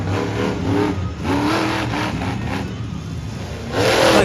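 A monster truck engine revs loudly at a freestyle show, rising and falling in drawn-out surges that climb sharply again near the end.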